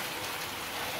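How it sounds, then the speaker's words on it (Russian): Heavy rain pours off a roof in a dense, steady roar of splashing water, loud and unbroken throughout. "Дождь льет, как из ведра."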